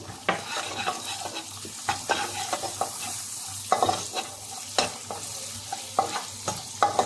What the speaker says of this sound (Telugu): కాజు బాదం దీంట్లో వేయించుకుందాము